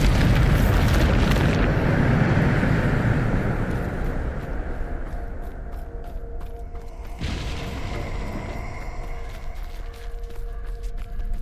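Bombarda spell explosion in Hogwarts Legacy, a loud deep roaring blast that slowly rumbles down, followed by a second sharper impact and lingering ringing tones.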